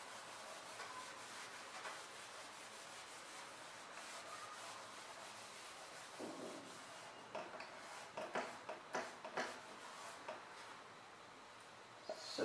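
An eraser rubs out handwritten notes on paper, giving a soft, faint scrubbing that turns into a series of short, quick strokes toward the end.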